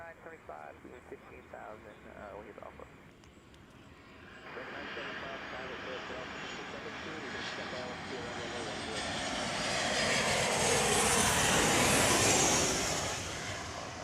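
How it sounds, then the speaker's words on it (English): A United airliner, flight 2160 from DFW, arriving at Chicago O'Hare, its engine roar swelling steadily to a broad loud peak near the end, with a voice talking over the start. "That was United 2160 from DFW, another flight from Dallas,"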